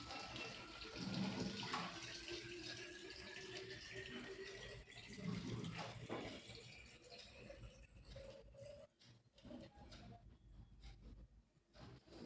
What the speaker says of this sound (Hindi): मैं इस बोतल में पानी भर के और वहाँ पे रख दूँ